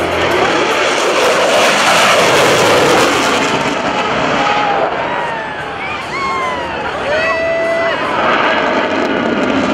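An F-16CJ Fighting Falcon takes off at an airshow, its engine roaring loud and steady, a powerful rumbling blast with a faint crowd murmur underneath.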